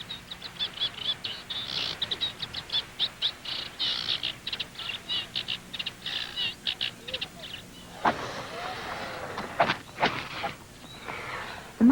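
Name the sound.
reed warbler birds calling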